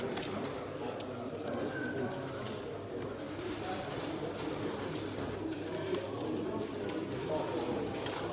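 Pigeon or dove cooing at an outdoor pigeon sale and open day, soft and intermittent beneath steady crowd chatter and background noise, with people talking nearby throughout.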